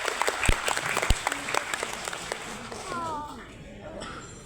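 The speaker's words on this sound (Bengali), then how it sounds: "সবাই স্যারের জন্য একটি জোরে করতালি হবে প্লিজ।" Applause for a guest at a Dhaka school and college ceremony: scattered claps swell into crowd clapping, with a few sharp close hand claps early on, then fading as a voice speaks over it.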